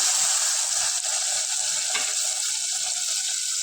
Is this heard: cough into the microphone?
no